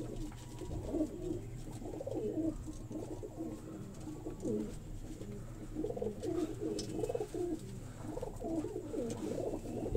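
Pigeons kept by a breeder coo repeatedly in soft, low, rolling phrases, several birds overlapping at close range, with a faint background hum beneath them.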